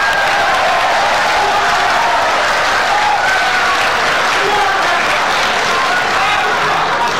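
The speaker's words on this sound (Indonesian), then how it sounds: "Anda silakan tepuk tangan." A large studio audience at a 2014 Indonesian presidential candidates' debate applauds loudly and steadily, a dense wash of clapping with a few faint cheers that runs without a break for the whole stretch.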